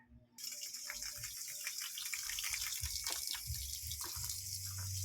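Tap water gushes steadily into a sink while chicken feet are washed by hand, with a few splashes and handling sounds over the constant close stream, no speech.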